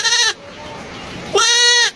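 Sheep bleating in two loud, wavering calls, one short at the start and a longer one after a pause, close and clear with no talk.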